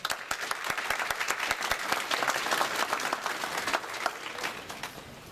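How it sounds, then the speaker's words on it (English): Steady applause from an audience at an address to a Democratic caucus gathering, dense overlapping claps filling the room at moderate distance, continuous and even throughout with no voices over it. "you deserve a round of applause for that"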